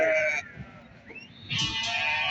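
Sheep bleat loudly at a livestock market in Barda, one long harmonic call at the start and another rising cry after a brief lull, with market murmur and shuffling underneath.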